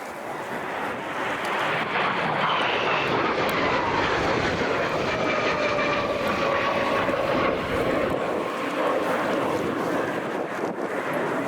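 A Spanish Navy EAV-8B Harrier II jet gives a display flight in the rain at RIAT 2023, its engine a loud continuous roar with shifting whine as it sweeps past, no voices heard.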